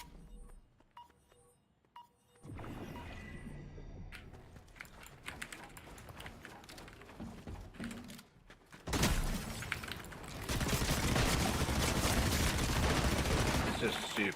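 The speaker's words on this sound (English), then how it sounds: "It's just stupid, isn't it, these SMGs, man?" SMG gunfire rattles in a ranked Fortnite match, rapid bursts of crackling shots that start quiet, grow dense and loud, then swell into a sustained barrage, with a voice speaking over it.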